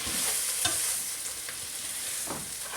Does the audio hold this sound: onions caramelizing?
yes